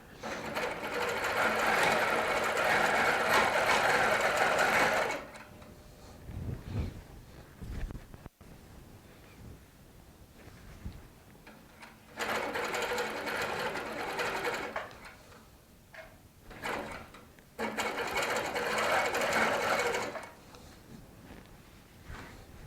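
A Baby Lock sewing machine with an 18-inch throat quilts over handmade cording using couching feet, running in three loud, steady whirring bursts of stitching separated by quiet pauses with light handling noises.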